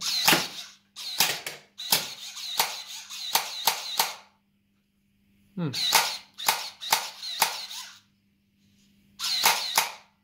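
An M1911-style gel blaster snaps off sharp, close pops and clicks in quick clusters, with short silent gaps between the bursts and a low hum underneath.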